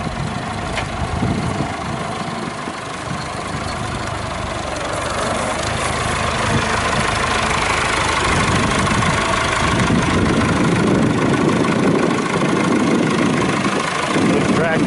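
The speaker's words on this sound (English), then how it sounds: "Diesel tractor." A 1975 Massey Ferguson 275 diesel tractor engine idles nearby, a continuous low, rough rumble that holds steady throughout.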